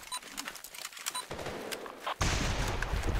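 A .50 caliber rifle fires in the video game Running With Rifles: sharp scattered shots ring out, then a sudden loud blast gives way to sustained heavy rumbling.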